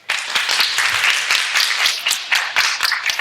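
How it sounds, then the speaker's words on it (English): Audience applause at a live Halloween show, a dense, loud burst of many hands clapping close by, continuous for a few seconds with no talk. "give a big, warm, Eerie Echoes round of applause to Elaine"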